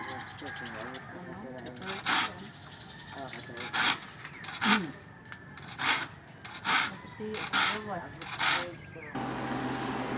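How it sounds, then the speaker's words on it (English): A hand saw is sharpened with a file in a notched jig, with rhythmic rasping strokes about every second, fairly close, while people talk in the background. "He's sharpening the saw by hand, so he's got it all set up on a little thing with the notches"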